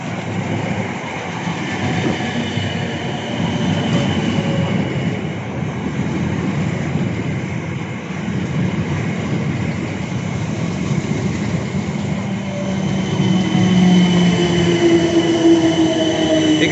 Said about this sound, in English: Here goes that service to Woking behind this train.